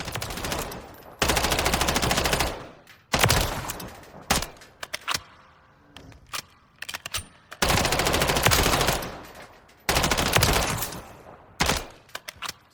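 Bren 805 automatic fire in Call of Duty Modern Warfare III: several loud, rapid bursts of gunfire separated by short pauses and single shots, with no talking.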